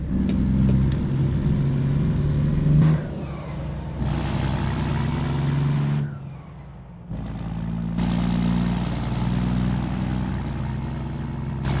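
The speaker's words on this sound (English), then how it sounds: "we're really revving it out here. Use all that 550 horsepower that I have today in this engine" Kenworth W900 truck with a 550 horsepower engine in American Truck Simulator, revving hard in a steady loud drone with rising and falling pitch, cut by brief drops between gear changes and throttle lifts, with no voices.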